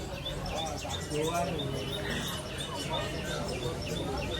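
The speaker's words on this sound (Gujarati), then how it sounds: "ચકલી કેવું મસ્તી ચીચી કરી જો" Sparrows chirp in quick, repeated bright notes around a rural village cooking spot, fairly close, with people talking beneath them.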